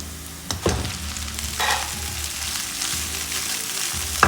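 Onions fry in a pan for aval (beaten rice) upma and are stirred now and then. A steady close sizzle runs throughout, with scraping stir strokes at intervals and no talking.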